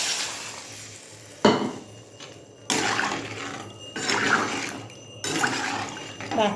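Water poured into a cooking pot with turmeric and salt, splashing in bursts with clinks of metal cookware, several separate pours close by.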